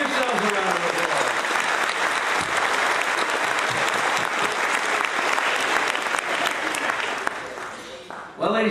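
Audience at an evening program applauding themselves, a dense, loud wash of clapping from a large crowd that holds steady for several seconds before tapering off near the end.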